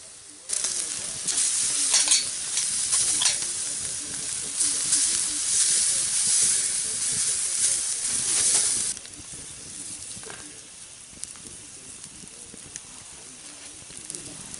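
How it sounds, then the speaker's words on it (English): Pork chops sizzle loudly over a campfire at a duck-hunting camp in Minnesota. The frying hiss is steady and close for about eight seconds, then drops to a quieter sizzle. "I'm just going to cook up my pork chops"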